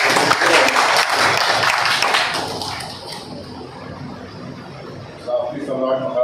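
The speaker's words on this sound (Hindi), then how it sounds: "एक जोरदार तालियां" An audience at a Suheldev Bharatiya Samaj Party workers' gathering claps loudly for a couple of seconds, the applause fading out before a speaker's voice returns over a hall.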